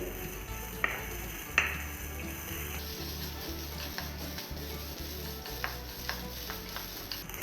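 Tender sorghum grains rustle and sizzle as they are stirred in a hot kadhai over a medium gas flame, with a few sharp scrapes and taps over a low hum.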